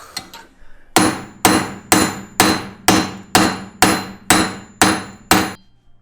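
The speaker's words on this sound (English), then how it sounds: "Alright, finally got the hub out. Just had to give it some good smacks." Hammer smacking a car wheel hub loose on a drift car, ten loud, evenly spaced metallic blows about half a second apart, close and ringing, with no talk.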